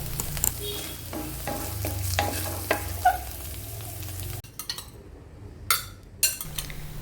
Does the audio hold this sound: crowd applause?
no